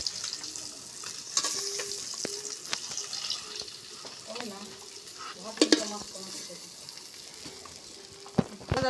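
Fish frying in hot oil in a pan, a steady soft sizzle with scattered clinks and stirring knocks, close by, with faint speech now and then.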